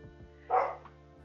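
A single dog bark, a short loud yelp from a pet dog indoors, stands out over a quiet room with a faint steady hum.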